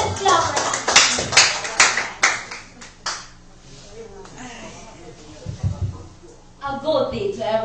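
Students in a grade 10 English class debate clapping for the next speaker, a burst of scattered, uneven handclaps that fades into a quieter stretch, with voices talking softly and a few more claps near the end.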